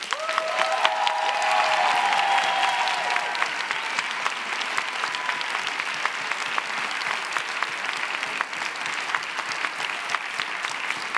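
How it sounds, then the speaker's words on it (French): A theatre audience applauds the finalists of a thesis-in-180-seconds contest with sustained, dense clapping. A low tonal hum sits under the first few seconds, and the applause stays even and full to the end. "On peut les applaudir."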